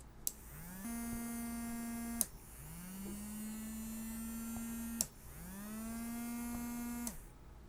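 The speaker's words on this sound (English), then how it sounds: "Here is the demonstration with smaller motor." A small 5 volt DC motor controlled by a NodeMCU ESP8266 runs in three short bursts, each a steady whine that rises in pitch as it spins up and cuts off with a click, quiet and close.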